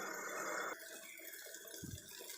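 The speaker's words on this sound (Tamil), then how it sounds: "நம்ம இப்போ மிக்ஸி ஜாரில் கொஞ்சமாக தண்ணி ஆட் பண்ணி இதை சேர்த்துக்கலாம்." Water poured from a mixer jar into a pan of Hyderabadi chicken gravy, a short, soft splashing pour that stops abruptly, followed by faint bubbling and quiet kitchen sounds.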